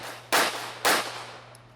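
Two loud pistol shots at an outdoor USPSA pistol match, close and sharp, about half a second apart, each with a short ringing tail.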